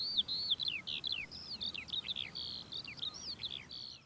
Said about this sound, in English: There's a thriving community of house sparrows on the burrows